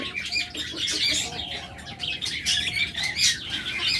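Pet birds, an albino and rainbow pair among lovebirds and budgerigars, chirp and tweet continuously at close range, with overlapping bright calls and occasional wing flutters throughout.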